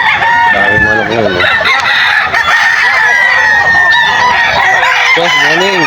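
A dense flock of chickens clucks and squawks nearby at a pet market at 5 a.m., while roosters crow repeatedly, their long rising calls overlapping one another.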